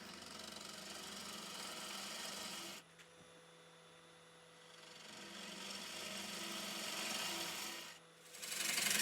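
A turning tool cuts a wooden cake platter on a lathe, giving a steady, close, abrasive rasping hiss over a low motor hum. The cutting drops away for a few seconds, comes back, pauses briefly, then resumes.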